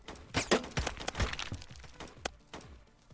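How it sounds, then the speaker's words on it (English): Scattered gunshots from an online first-person shooter, Phantom Forces, crack out in several sharp bursts at mid distance with no voices over them. "got somebody shooting on my left"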